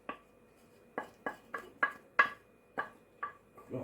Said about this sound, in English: So all we're going to do is take it to our butter and sugar mix. And we're just going to scrape all of this out.